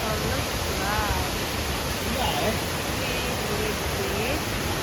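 Sekumpul waterfall in Bali roars as a constant dense wash of water noise, with faint human voices passing briefly beneath the rush.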